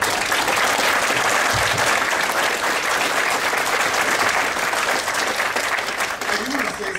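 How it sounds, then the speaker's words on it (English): Sustained, loud applause from a large crowd at a convention closing ceremony, continuous clapping that fills the whole stretch without letting up. "So give him an extra round of applause."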